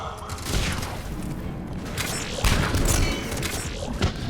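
Chakram Launcher charge weapon shots in Mass Effect 3 come as dense, loud energy bursts and impacts in quick succession, forming a continuous clattering barrage with some booming thumps.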